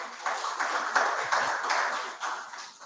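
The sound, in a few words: audience applause for the minister at a town hall meeting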